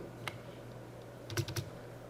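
Typing on a computer keyboard while entering values into an Excel VBA array: a lone keystroke, then a quick cluster of three or four close, crisp taps, with no speech.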